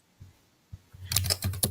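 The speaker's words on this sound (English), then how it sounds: "I hear some typing." A few soft isolated keystrokes, then a quick burst of typing on a keyboard, close and fairly quiet.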